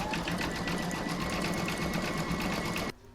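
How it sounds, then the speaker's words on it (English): A sewing machine stitches eyes in black thread on an Easter bunny project: a fast, even whirring chatter of needle strokes, close and steady for about three seconds before stopping abruptly. "I'm going to load black into my machine, and I'm going to stitch the eyes next."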